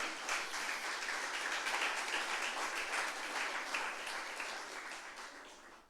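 Church congregation clapping during a Sunday service, a steady rhythmic wash of many hands that holds for several seconds and then gradually fades out.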